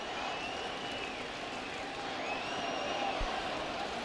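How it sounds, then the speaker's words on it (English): A baseball stadium crowd in a major league game between the Orioles and Red Sox swells into a broad, steady roar of cheering from a distance, filling the space without clear breaks. "Crowd coming to life for the first time in a while."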